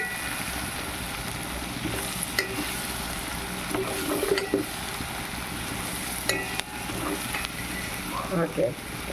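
Ingredients for a chicken curry brown in a hot pan. A dense, loud sizzle continues without a break, with occasional scraping stirs of a spoon against the metal.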